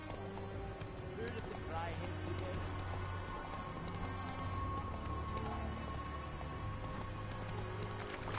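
Roach, Geralt's horse in The Witcher, galloping: rapid rhythmic hoofbeats run steadily under game music and voices throughout.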